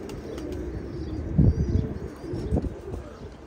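Pigeons coo softly amid a household flock, with a couple of low, throaty coos rising above the quiet background around the middle and again shortly after, close and unhurried.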